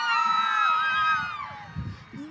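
A crowd at a youth basketball event cheers for the girls team with high, overlapping shouts and whoops sustained for a couple of seconds, tapering off near the end, with children's voices prominent.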